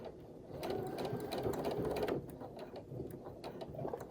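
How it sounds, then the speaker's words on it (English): Sewing machine stitching a fabric face mask near pleats, running in quick rattling bursts with a short pause midway, close and fairly quiet. "So here I'm going to just start to sew"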